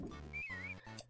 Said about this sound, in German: Einmal pfeifen, damit sie wissen, dass ich da bin.